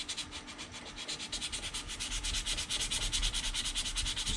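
Steady back-and-forth sanding strokes over a part of a 1:350 scale Polar Lights TOS Enterprise plastic model kit, rhythmic close rasping that grows louder toward the end, with no talking.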